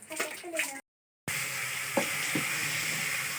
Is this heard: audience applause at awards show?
no